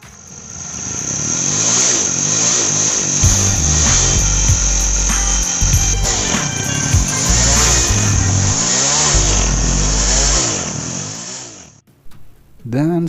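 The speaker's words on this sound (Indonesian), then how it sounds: "Berikut adalah kita coba nyalain mesinnya." A Honda Win motorcycle fitted with a YX160 stator starts and idles close by, its engine revving up and down in uneven bursts before shutting off near the end.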